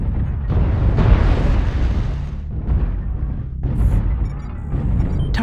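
Airstrike explosions in a video game, a loud continuous rumble of deep booms that swell and fade over several seconds, with brief electronic beeps near the end.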